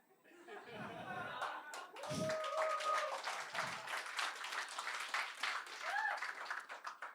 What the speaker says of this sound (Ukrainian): Дякую, що ви аплодуєте